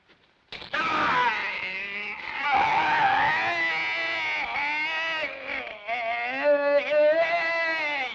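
A person screams in a 1949 adventure drama film, a long, loud, close cry that wavers and shifts in pitch, broken by a few brief breaths.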